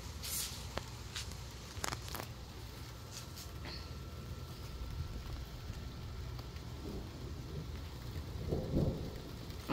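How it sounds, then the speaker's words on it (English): Heavy rain pours on a rooftop during a storm, a dense steady hiss with scattered louder drip and splash hits, heard from close by at moderate level, with a low rumble near the end. "Oh my gosh, it's raining so hard."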